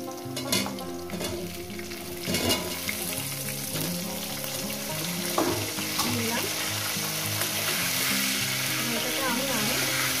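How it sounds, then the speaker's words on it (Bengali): Potatoes and cauliflower pieces frying in hot oil in a pan, a loud steady sizzle with occasional stirring clatters throughout. "আমি আরো 6-7 মিনিট ধরে আলু আর ফুলকপিটাকে ভেজে নেব।"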